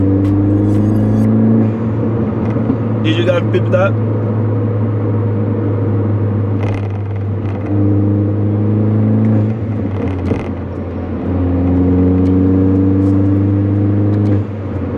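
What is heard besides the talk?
car engine intake while downshifting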